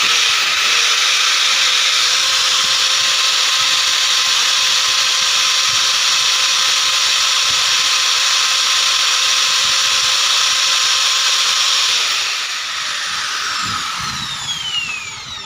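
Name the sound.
drill machine with 2.5 mm bit drilling a hole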